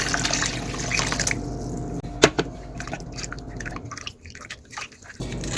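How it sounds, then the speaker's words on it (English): Water is poured into rice-flour gluten-free gravy in a pan and stirred, giving a continuous close splashing, sloshing sound with a few sharp clinks. "And then we're going to mix it down with water."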